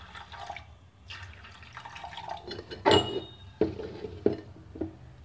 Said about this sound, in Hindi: और इसमें हम डालेंगे पानी